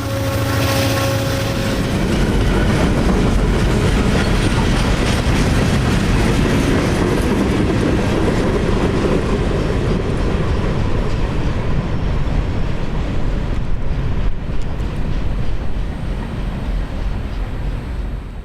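A freight train rolls past on the CSX M&M Subdivision, loud and close, with a continuous heavy roar and rumble of wagons and wheel clatter that holds steady throughout and eases slightly at the end.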